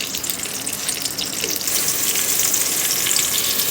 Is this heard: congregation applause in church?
no